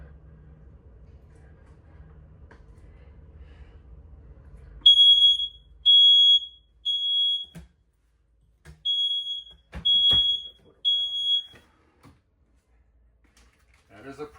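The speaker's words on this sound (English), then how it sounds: "You have a smoke detector up here." An RV smoke detector in a 2025 Shasta 526RBS travel trailer shrills in about six loud, sharp electronic beeps of uneven length, following a stretch of quiet low rumble.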